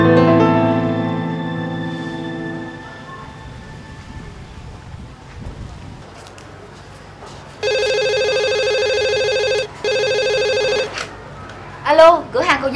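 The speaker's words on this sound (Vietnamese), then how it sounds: "Anh có điện thoại kìa." A telephone rings in a Vietnamese drama scene, with bright electronic ring tones in two long bursts after earlier ringing at the start, followed by a voice speaking.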